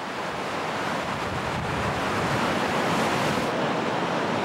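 Ocean waves break on shore in a continuous, loud wash of surf, with wind noise blowing over the microphone.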